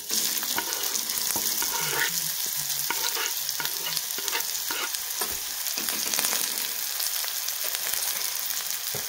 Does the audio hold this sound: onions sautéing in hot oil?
yes